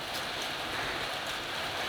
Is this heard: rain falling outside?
yes